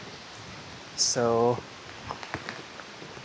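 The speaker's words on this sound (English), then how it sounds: "Oh, it's raining now" Rain falling at Takeo temple in Angkor, a soft steady hiss of drops in the background while someone speaks briefly, with a few faint rustles and footsteps.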